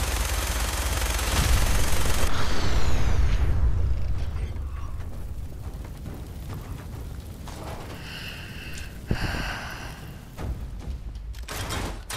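Electro rifle fire in Fallout 4, a loud burst of rapid, dense shots with heavy low rumble that thins into crackling energy zaps and sharp tonal whines, no voices over it.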